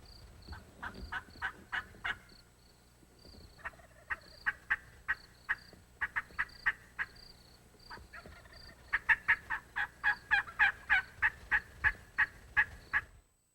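Wild turkeys gobble repeatedly from some distance on an open ranch in spring hunting season, with rapid rattling bursts coming in quick succession and overlapping calls building toward the end.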